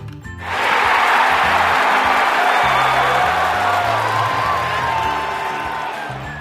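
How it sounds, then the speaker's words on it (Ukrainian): Applause and cheering from a crowd of characters in a Ukrainian children's animated story, after a surprised biscuit cat sits on a throne in a palace made of candy; sustained clapping rises quickly and holds steady over soft background music. "Усі аплодували."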